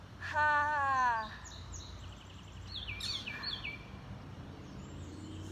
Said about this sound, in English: And then we have Carolina Wren saying tea kettle, tea kettle.